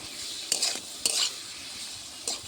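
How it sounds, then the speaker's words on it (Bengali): Ginger and green chilli paste frying with browned potatoes for a singara filling, with a steady hiss under a few bright scraping stirs from a spoon against the pan, close and alone. "এরপর দিয়ে দেবো আদা আর কাঁচা লঙ্কার বাটা"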